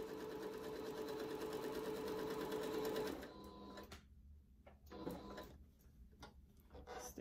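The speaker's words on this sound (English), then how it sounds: "We're just gonna sew right along the curved portion." A sewing machine runs steadily as it stitches along the curved seam of a fabric mask, close and even for about three seconds before stopping, followed by quiet handling clicks.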